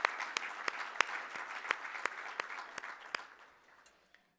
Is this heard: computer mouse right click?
no